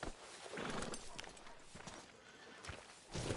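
Horse hooves clop and a horse whinnies in the video game Red Dead Redemption 2, soft and faint with a few irregular bursts and a muffled rustle.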